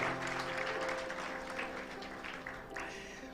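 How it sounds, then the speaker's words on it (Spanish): A crowd at a church service applauds steadily throughout, a dense wash of clapping from many hands, with faint voices mixed in. "un aplauso para estos hermanos tan juiciosos"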